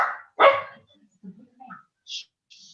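A pet dog lets out a few barks at close range, separated by brief silent gaps, with a couple of fainter, higher yips near the end.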